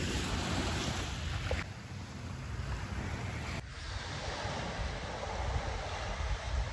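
Waves washing in at the shore during an unusually high tide, a steady broadband rush of surf mixed with gusty wind buffeting the microphone, continuous and fairly loud throughout with no talking.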